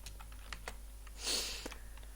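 Scattered, uneven clicks of fingers typing on a computer keyboard, close and fairly quiet, with a brief breathy burst partway through and no talking.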